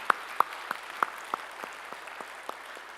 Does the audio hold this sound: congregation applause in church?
yes